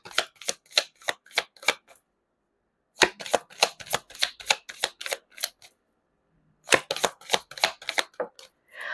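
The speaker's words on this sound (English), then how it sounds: "Let me just shuffle this real quick." Tarot cards are shuffled in three quick bursts of crisp riffling snaps, close up, separated by short pauses.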